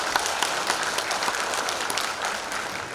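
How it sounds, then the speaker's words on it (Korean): Audience applause for a photography lecturer at a photo concert talk session, a dense, even wash of many hands clapping that holds steady for the whole stretch, with no voices over it. "강의를 해주신 이원철 작가님께 다시 한번 박수 부탁드리겠습니다."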